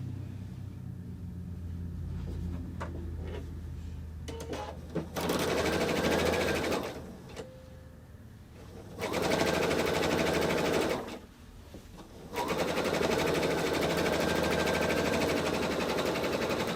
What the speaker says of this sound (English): right sides together, and sew 1/4 inch all the way down.